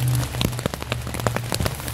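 Rain patters on a camping tent at Six Mile Lake Provincial Park, close and fairly loud, with irregular sharp drop taps over a steady soft wash.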